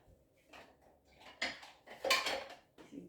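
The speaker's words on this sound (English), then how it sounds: "Grab my fish spatula." A fish spatula is picked out from among kitchen utensils, with a few close metallic clinks and rattles in short bursts, the loudest in the middle, then a softer final clink.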